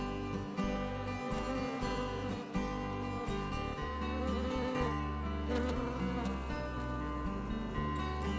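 Honey bees buzz steadily in an opened hive on a farm, a dense, continuous drone of many insects close by, with no talking over it.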